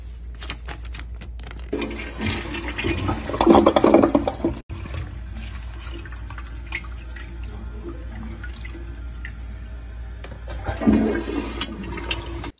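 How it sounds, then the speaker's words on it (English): A toilet stuffed with hundred-dollar bills flushes loudly close by, a long swirling rush of water with gurgles and drips, then a second surge near the end. "He's literally flushing money down the drain."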